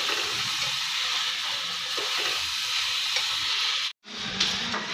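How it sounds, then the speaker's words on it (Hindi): Beef pieces frying in masala with a little water for a karahi, giving a steady, loud sizzle and hiss throughout with faint stirring, broken by one brief pause near the end. "इसके अंदर थोड़ा सा पानी ऐड करना है, और इसको तकरीबन 10 मिनट तक इस मसाले के अंदर इसको फ्राई करना है।"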